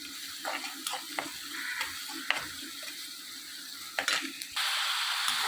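Ginger garlic paste sizzles in a pan for Pallipalayam chicken, a soft continuous frying hiss broken by scraping stirs and a few sharp clinks of the spoon, growing louder near the end.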